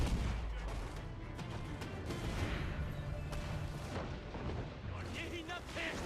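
Ship cannons fire in Assassin's Creed 4: Black Flag as heavy, booming blasts roll amid battle noise, with shouting voices throughout.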